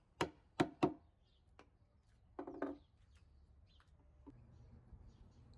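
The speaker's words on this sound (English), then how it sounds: "you tap your chisel on the marking lines from both sides. And then cut it off from the edge." A chisel struck against wood while cutting a box joint by hand, three sharp taps in quick succession, then a softer cluster of strikes and a faint scrape, with quiet room tone between.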